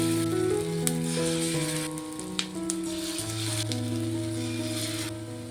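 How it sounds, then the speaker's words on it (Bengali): Batter-dipped bread pieces fry in hot oil, giving a steady, close sizzle that runs through the whole stretch beneath background music. "এক পিঠ ভাজা হলে আমি হালকা হাতে উল্টে দেব"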